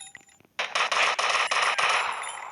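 A rapid burst of automatic gunfire from GTA Vice City with bright metallic clinks of shell casings scattering onto a carpet, loud and close, preceded by faint quiet clicks.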